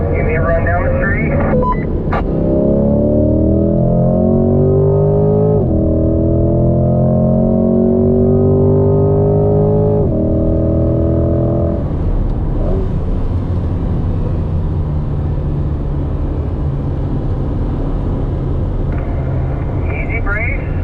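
A C8 Corvette drives on a race track, its engine droning loudly and continuously from inside the car, rising in pitch through the gears and then easing off, with talk over it.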